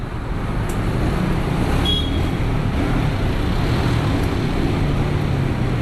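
Road traffic on a congested street heard during a ride: a steady, loud broadband rumble of car, bus and truck engines, continuous throughout with no speech.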